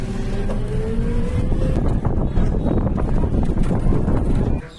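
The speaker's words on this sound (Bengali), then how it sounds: "তখন আমরা টোটোতে বসে আছি, এই রাস্তা দিয়ে আমরা যাচ্ছি।" An electric rickshaw (toto) rolls along a road near Mayapur, Kolkata, giving a steady, loud rumble of tyres and motor hum mixed with rushing wind buffeting the microphone, continuous throughout.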